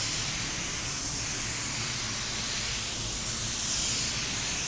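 A spray gun lays down a coat of automotive clear coat, a loud, unbroken broadband hiss held close and even from start to finish, with no voices.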